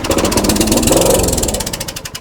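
A swapped-in engine on a homemade lawn mower runs loud and close with a rough, fast pulsing chug, its beat slowing and wavering toward the end.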